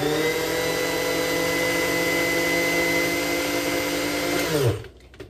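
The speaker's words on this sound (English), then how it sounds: "hopefully you have a better food processor than the one I'm using" A small, weak food processor blends homemade pasta sauce (a mayo-style sauce) in a steady, loud motor whir for about five seconds before it winds down and cuts off, leaving near silence.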